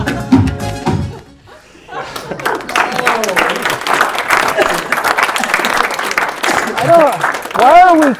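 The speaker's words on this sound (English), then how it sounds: "Why are we clapping?" Studio audience at a comedy panel show applauds loudly and steadily for several seconds, with laughter and whoops mixed in after a brief opening of talk and a short lull.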